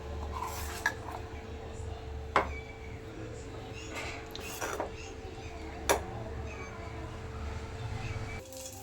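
Idli batter for pakoras being stirred in a bowl by hand, with soft scraping and a few sharp spoon clinks against the bowl over a steady low background hum.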